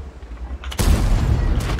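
A tank cannon fires in a World of Tanks battle, one sudden loud blast that breaks out of quiet game ambience and rolls on as a dense, sustained rumble.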